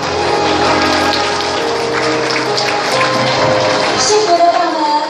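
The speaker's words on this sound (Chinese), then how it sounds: "请掌声鼓励" Wedding guests at a banquet applaud in steady, dense clapping that fills the room for several seconds, loud and continuous with a slight swell near the end.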